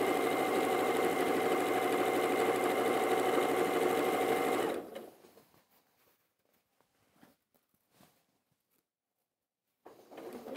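Sewing machine backstitching a seam on a design roll, a loud steady whir for about five seconds that cuts off abruptly, followed by near silence with scattered soft handling knocks and a renewed burst at the end.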